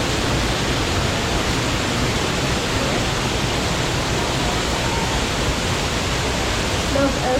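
Steady, loud rushing water fills the whole clip, a constant broadband roar like a nearby waterfall or fast stream, with no pauses, at the indoor Delta River at Gaylord Opryland.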